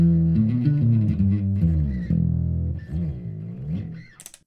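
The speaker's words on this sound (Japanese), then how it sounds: "歪みは MXR の歪みを使ってて。" Bass guitar played through an MXR distortion pedal, a gritty, overdriven sustained tone with shifting notes and slides, loud and alone for a few seconds.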